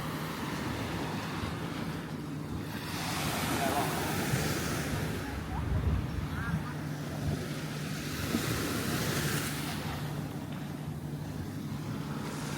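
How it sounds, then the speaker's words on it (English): Waves washing onto Secret Beach on the tropical island of Koh Kood, Thailand, a steady rolling surf with swells of breaking water and wind buffeting the microphone, while someone talks over it. "this is a nice relaxing beach"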